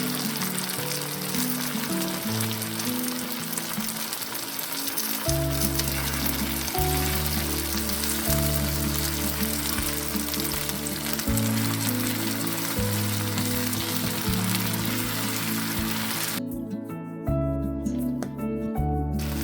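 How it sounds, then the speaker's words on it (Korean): Beaten egg poured into a hot pan for a cabbage dish, frying and sizzling steadily while stirred loosely, with a continuous close crackle and occasional low thuds and scrapes from the utensil. "계란을 설렁설렁 저어가며 익혀주세요."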